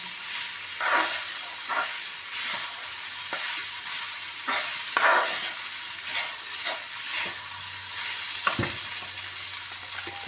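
Poha is stir-fried in a pan, with a steady sizzle under repeated scraping strokes of a spatula that come at an uneven rhythm, close and moderately loud, with no talking.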